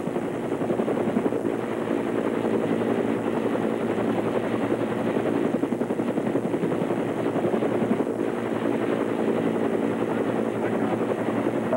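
Over Sullivan's Island near Charleston after Hurricane Hugo in 1989, a helicopter's rotor thumps and engine drone run loud and steady from start to finish with no voices.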